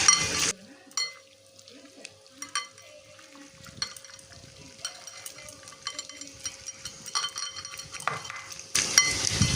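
Boiled banana flower mashed by hand, soft wet squelching and pressing sounds in an irregular rhythm close by, with brief louder bursts at the start and end.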